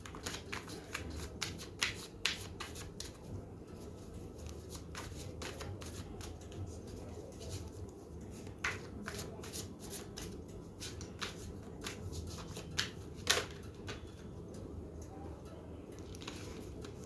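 Tarot cards shuffled by hand close up, a steady run of soft riffling and sliding card noises with short quiet gaps, continuing for the whole stretch without talk.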